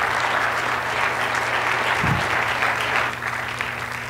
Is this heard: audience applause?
yes